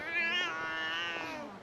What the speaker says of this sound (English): Oh, hey, a cat.